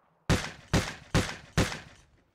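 Four loud, sharp gunshots fired in quick, even succession during a firefight in the military video game Arma 3, with no talk over them.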